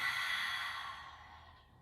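A deep, audible yoga breath during a sun salutation sequence, a long airy exhale that rushes out and gradually fades, close to the microphone with no talking.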